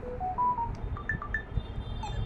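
Samsung Galaxy M15 5G text message notification tone preview: a quiet sequence of short, bright electronic beeps rising and stepping in pitch, played alone without talk.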